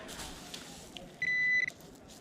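Metal detector signal during a coin hunt in a town square, a steady electronic tone lasting about half a second, fairly loud over quiet ambient background.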